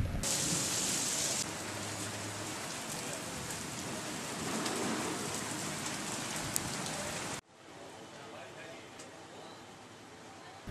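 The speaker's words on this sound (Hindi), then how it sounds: "करीब 15 मिनट की बारिश के दौरान चने के आकार के ओले भी गिरे" Heavy rain with chickpea-sized hail lasting around fifteen minutes in Churu, heard as a dense, steady roar of downpour on surfaces, loud throughout and dropping to a softer but continuous hiss in the final few seconds.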